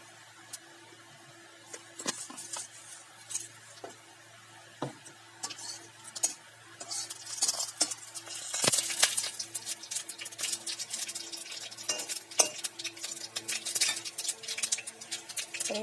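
Black mustard seeds fry in hot mustard oil in a wok, giving scattered pops and crackles that grow denser and busier midway, mixed with occasional utensil taps.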